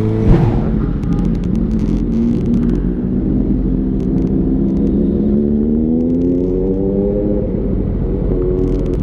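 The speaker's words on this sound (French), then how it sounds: "Le mec, il était en échappement libre, quoi il faisait plus de barouf que moi" A motorcycle with an open, unrestricted exhaust roars past on the road, a loud close rumble whose pitch swells and shifts over several seconds, heard alone.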